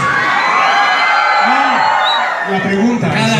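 Audience in a hall for a voice-actor panel shouting and cheering together, a dense, loud crowd roar that stays constant throughout, with a few individual whoops rising above it.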